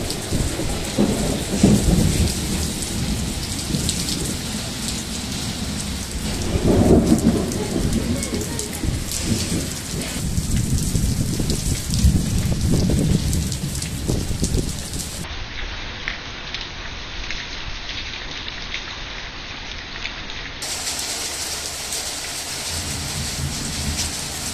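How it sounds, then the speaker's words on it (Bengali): Heavy rain pours down in a thunderstorm during hot, humid weather, a loud constant roar of drops broken by deep rumbling thunder swells, with no talk over it. "মুষলধারে বৃষ্টি শুরু হয়ে গেছে।"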